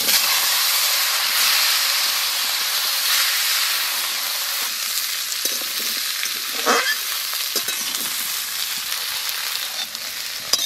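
Potatoes fry in a pan with a loud, even sizzle and hiss. A few stirring scrapes and knocks break through partway, and the sound carries on close up with no voices.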